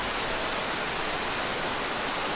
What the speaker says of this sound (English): Odds on you sitting behind that waterfall there.